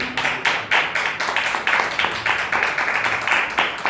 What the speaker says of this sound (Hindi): ताली बजा के प्रभु